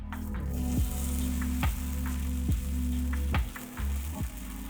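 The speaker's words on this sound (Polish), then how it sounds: "najpierw wstawiamy jednego placuszka i sprawdzamy, czy on się w ogóle usmaża" Small Thai pancakes fry in a pan with a constant crackling sizzle, broken by a soft squish or scrape about every second, close up and alone.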